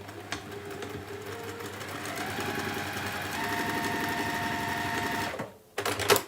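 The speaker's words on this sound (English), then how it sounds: "we are indeed going to sew across all 4 of those" Sewing machine running steadily as it stitches across fabric, a continuous close mechanical whir for about five seconds that stops briefly, then restarts with a short burst.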